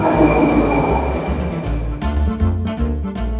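Rumbling train passing close by in the Moscow Metro at Revolution Square station, low mechanical drone with rhythmic clacking and a faint high whine, loud and continuous without speech.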